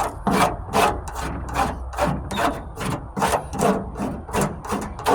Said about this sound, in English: This is nothing more than a cheese grater file, if you want to look at it that way.